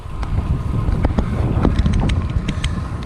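Tailwind gusting through quiet countryside, a steady buffeting rush of wind with rumbling low noise and scattered light clicks, close to the microphone.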